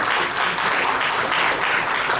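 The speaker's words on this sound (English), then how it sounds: "Can we give a huge round of applause?" A conference audience applauds a panel of legal experts, steady dense clapping filling the short stretch at an even, close level.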